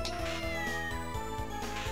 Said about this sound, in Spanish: Hay un Serious, un gato.